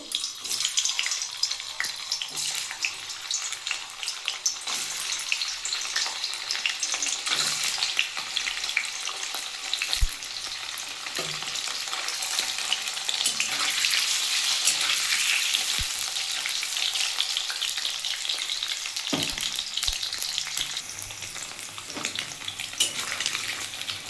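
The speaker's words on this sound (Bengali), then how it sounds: "আমি এবার পনিরগুলো হালকা করে একটু ভেজে নেবো" Steady, close sizzling of paneer frying in hot oil, with a few clinks and stirring noises, no talking.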